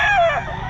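A single loud, close crow from an eight-month-old Kelso gamecock at a pet market, cut short in a fraction of a second.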